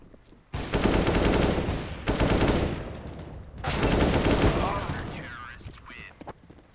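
Automatic rifle fire in CS:GO rattles out in three long, loud sustained bursts separated by brief gaps, with a fainter shot or two trailing after; voices chatter around it.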